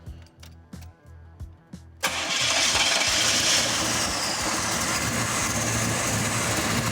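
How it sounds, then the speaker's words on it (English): A few starter cranks chug in short bursts, then the V8 engine of a 1984 Chevrolet Caprice wagon catches and roars to life, settling into a loud, steady rumbling idle. "I even primed the fuel system, so it should fire right up"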